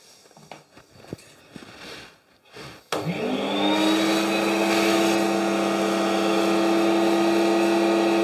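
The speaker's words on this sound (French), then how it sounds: "Un petit coup d'aspirateur." A vacuum cleaner used in a pottery workshop after trimming clay pieces starts abruptly after a few faint knocks, then whines on steadily and loudly with a high motor tone.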